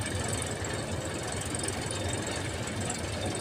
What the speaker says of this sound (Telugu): ఇది ట్రాక్టర్ ఐచర్ 480.